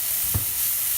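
Garlic and vegetables sauté in a hot pan, giving a brief soft sizzle with a small stirring bump in the middle and no voices.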